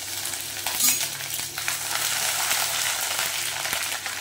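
Chopped ginger sautéing in a pan of oil, a dense, continuous close sizzle with occasional light stirring scrapes and a small metallic clink, without any talking.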